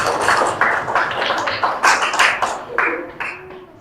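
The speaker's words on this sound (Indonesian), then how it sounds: "Kasih tepuk tangannya." Students clap their hands in a fifth-grade classroom, a quick run of sharp, fairly close claps with a loose, slightly uneven rhythm that tapers off near the end.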